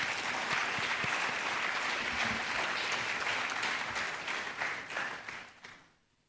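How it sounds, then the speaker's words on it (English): Sustained applause from an audience at an academic founder's week celebration in Ghana, steady and dense for about four seconds before tapering off and fading out near the end. "So let's clap for them again."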